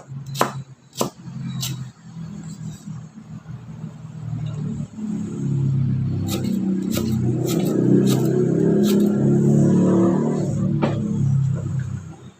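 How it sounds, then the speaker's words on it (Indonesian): Chopped lemongrass, cut small, is whirled in a kitchen blender for Indonesian pepes ikan tongkol. A few sharp knocks come first, then a loud, steady motor rumble and whir fills the rest, close by and with no talk. "kita blender ya."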